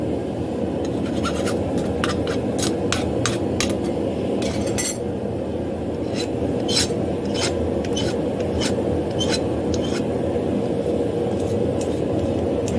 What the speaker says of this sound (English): Hot metal is very easy to file, just make sure you don't touch your hand to it.